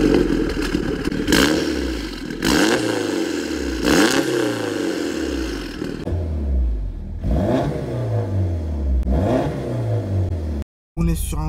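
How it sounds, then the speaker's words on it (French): Peugeot 308 GTi by Factory starting up and revving, repeated loud rising and falling engine blips close by, a rough idle between pulls, a short drop to silence near the end, with voices audible underneath. "quand vous démarrez la voiture,"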